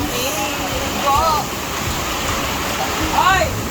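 Steady, dense rushing wash of heavy rain fills the whole clip, with a couple of brief tonal chirps or voices rising faintly above it.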